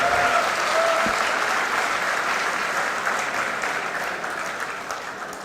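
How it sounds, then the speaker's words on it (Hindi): A crowd at a Hindi kavi sammelan poetry gathering applauds in a dense, sustained wash of clapping that fades slowly over several seconds. "थोड़ी तालियां दे सकते हो तो दे दो एक बार"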